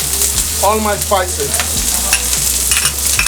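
Spices get stirred into butter and oil melting in a hot pan, a loud close sizzle with spoon scrapes and clatter against the pan, plus a short faint squeaky sound early on.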